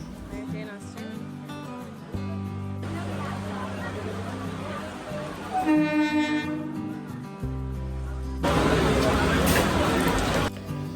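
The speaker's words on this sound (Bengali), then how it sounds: "ট্রেন আসছে" A local train on the Digha to Howrah line pulls into the station, its horn sounding loud and long in several sustained blasts over steady rumbling and crowd noise, with people talking nearby.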